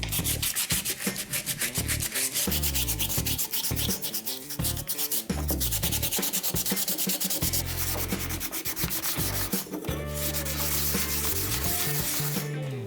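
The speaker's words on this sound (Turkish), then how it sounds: "Daha pürüzsüz görünmesi için zımparayla devam ediyorum." Continuous rhythmic scraping of sandpaper rubbing back and forth over a coconut-shell decorative vase, close and steady, with no voices.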